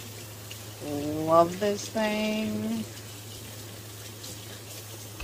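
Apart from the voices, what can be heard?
water running from a touchless kitchen faucet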